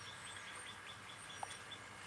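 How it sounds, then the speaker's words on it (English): Faint outdoor birds chirp in scattered short calls, distant and quiet over a soft ambient background. "Birds sound really nice outside."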